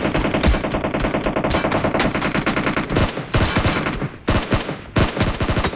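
Rapid automatic gunfire in the video game PUBG, dense bursts of shots rattling loud and close, with brief gaps between the later volleys.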